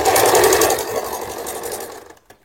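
A sewing machine stitches a size-40 blouse, running in a steady rapid whir for about two seconds before stopping abruptly, with a brief faint mechanical tick afterward; no one speaks.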